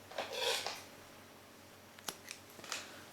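Scissors snip through crochet yarn after a beanie row is finished: a close, crisp cutting sound, then a couple of small sharp clicks as the blades close, with no talking.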